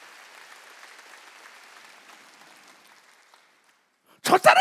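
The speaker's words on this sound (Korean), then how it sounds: "박수 좀 쳐줘요" A church congregation at a Sunday service breaks into a loud burst of applause at the very end, after a stretch of quieter murmuring crowd sound and faint talk.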